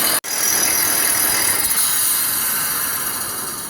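A Dual Express reel grinder sharpening a Toro mower reel runs on with a dense, loud mechanical grinding whir that stays steady and then starts to ease slightly as it winds down.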